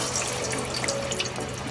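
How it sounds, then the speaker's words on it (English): Plantains frying in hot oil in a fryer, a steady crackling sizzle with scattered pops, close and continuous throughout with no voices. "When you got your cooking all hot and popping like this, it's time to throw them in the fryer."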